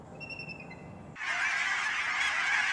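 Geese and other waterfowl at Fernhill Wetlands honk in a few short calls, followed by a sudden steady hiss of wind or flowing water. Both sit at moderate distance and there is no talk.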